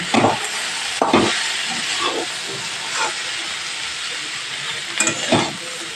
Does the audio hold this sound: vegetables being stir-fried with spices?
yes